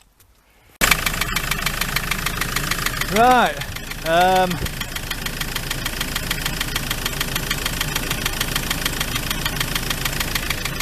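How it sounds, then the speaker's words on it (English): A van engine cranks, fires up abruptly and settles into a steady, slightly knocking idle, close by, with a brief revving bump and a short spoken word early on. "I'm going to try and start the car, start the van"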